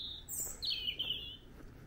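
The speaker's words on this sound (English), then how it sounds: "Got the birds talking." Birds chirping and tweeting outdoors during a walk, a few bright high calls in quick succession over steady background noise, fairly faint and alone without talk.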